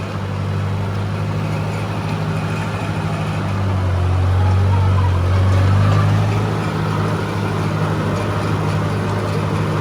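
An old Ford 871 tractor drives in a high road gear, its engine a loud, continuous low drone that swells briefly midway and then settles back.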